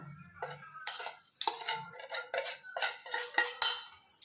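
Semolina and peanuts tipped into a pot of boiling water for upma, with a utensil clattering and scraping against the metal pot in quick irregular clinks, close and moderately loud.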